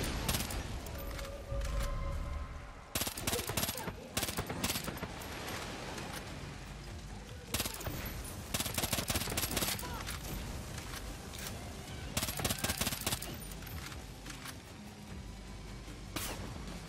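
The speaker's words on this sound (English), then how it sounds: "this handgun with muzzle fire and burst fire is the choice for all cybernetic organisms who enter the Force" Repeated bursts of gunfire from the Blood Dragon burst-fire handgun in Far Cry New Dawn, loud and close, with clusters of sharp shots separated by brief gaps over a constant game ambience.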